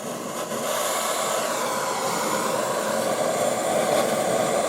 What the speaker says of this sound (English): I'm just going to use my easy torch for this.